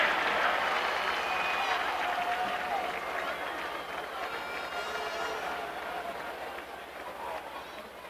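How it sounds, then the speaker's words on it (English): A stadium crowd applauds the Kentwood and St. John high schools at the 1998 Class 1A state football championship trophy presentation, a broad steady roar of clapping and cheering that slowly fades over several seconds. "Let's have a big round of applause for these two high schools"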